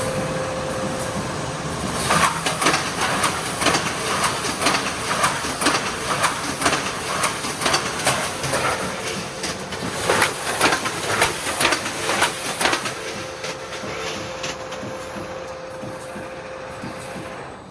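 A production line for 10–20 liter big pail cans runs at 60 cans per minute, clattering with repeated mechanical bursts and thumps over a constant machine hum and a faint steady whine.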